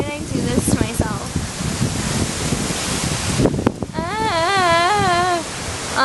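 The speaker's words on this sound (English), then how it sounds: "oh, it's so windy." Wind blowing outdoors, a steady rough roar of gusts buffeting close by, running throughout under a person talking.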